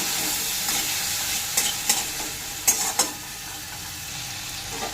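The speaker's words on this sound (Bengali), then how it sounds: "অল্প জল দিয়ে মশলাটাকে কষে নেব।" Spice paste of ginger, garlic, cumin, chilli powder and salt frying with onion and a little water in a pan, a constant close sizzle with a few stirring scrapes.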